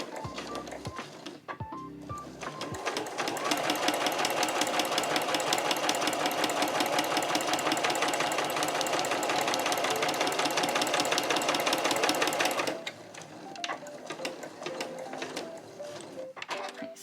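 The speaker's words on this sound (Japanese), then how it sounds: "1cm 先に針を下ろして返し縫いからスタートします" Home sewing machine stitching fabric scraps for a small trunk-style key case, starting with a few short backstitch bursts, then a steady close rapid stitching rattle of about nine seconds, followed by brief clicks and handling.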